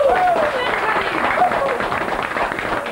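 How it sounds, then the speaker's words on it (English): Audience applause at a Christmas gathering of Irish dancing and talks, steady dense clapping that fills the whole stretch, with a voice briefly audible over it. "I give Connie a big clap now."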